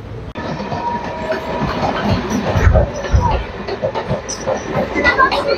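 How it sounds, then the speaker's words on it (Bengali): A local suburban train near Patipukur in Kolkata runs alongside another train, a loud rumbling roar with rattling wheels and hiss, heard close and continuous from on board, swelling and rolling throughout. "আর পাশে এটা একটা লোকাল ট্রেন যাচ্ছে।"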